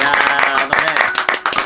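Several people clap in quick, uneven bursts, close and loud, while a voice talks over the clapping.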